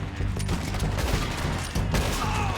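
Rapid gunshots in a Red Dead Redemption train robbery shootout, a dense loud fusillade of overlapping cracks firing continuously across the whole stretch.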